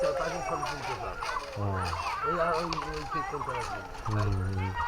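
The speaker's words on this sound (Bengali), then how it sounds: "পাখিও আছে এখানে" Turkey-like gobbling bird calls in a rural Bengali village, several loud bursts repeating through the clip, with people talking over them.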